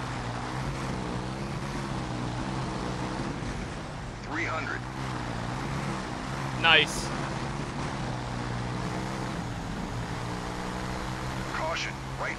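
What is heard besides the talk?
racing truck engine in the video game Colin McRae Dirt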